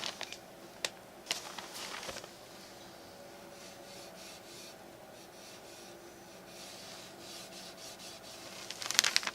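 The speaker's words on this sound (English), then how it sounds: "I'm going to rub it along the inside of this edge here to apply the stain." A rag rubs dark walnut stain along the inside edge of a wooden speed loader, giving soft, close scrubbing strokes with a few sharper scrapes near the start and end.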